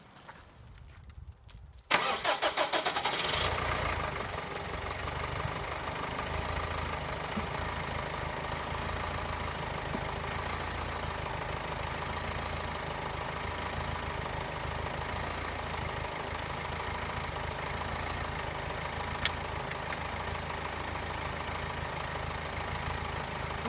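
A push-button car cranks over with a TACKLIFE T6 portable jump starter on a weak, dying battery, catching quickly and then settling into a steady, close idle that runs on with no talk.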